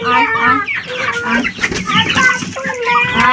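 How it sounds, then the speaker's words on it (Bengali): Backyard chickens cluck and squawk busily at close range while waiting to be fed, with people talking over the flock. "চলো মুরগিগুলাকে খেতে দিব"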